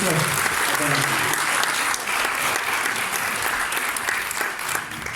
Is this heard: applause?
yes